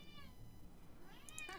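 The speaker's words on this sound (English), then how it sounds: "I'm not sure if you guys can hear him meowing" A pet cat gives a short, faint meow near the end, a thin rising call over quiet room noise.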